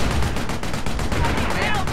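Rapid rhythmic gunfire from a battle in the Company of Heroes game, a fast run of machine-gun bursts close and loud over a thick background rumble of combat.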